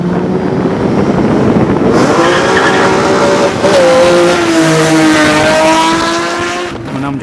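A tuned Nissan 350Z revs hard with loud intake breathing and exhaust roar, engine pitch climbing and falling in sweeps, close and sustained throughout.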